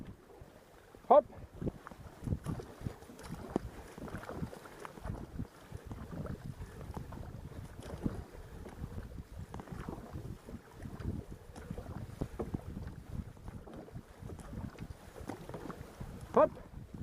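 Canoe paddled out onto a lake, with steady splashing paddle strokes and water sloshing against the hull under gusty wind noise on the microphone; a loud knock near the start and another near the end.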